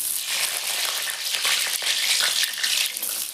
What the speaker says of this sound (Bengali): তেলটা গরম হয়ে গেছে, ডুমো ডুমো করে সেটা আলুটা ভাজিয়ে নেবো।